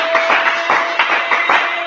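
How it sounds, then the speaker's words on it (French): A church congregation applauding loudly, a dense, even burst of clapping with sharp rhythmic accents, close and sustained with no talk over it. "Est-ce que tu peux applaudir très fort pour le Seigneur Jésus?"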